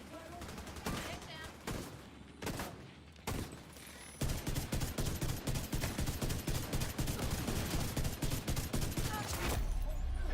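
Dense, rapid video game gunfire, with sharp cracks packed closely together almost without pause and growing into a steady, loud automatic barrage in the second half, with a voice faintly underneath.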